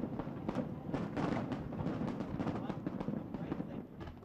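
Fireworks burst over Hong Kong at a handover-night celebration, a dense run of booms and crackles overlapping in quick succession, loud and sustained with a crowd murmur beneath.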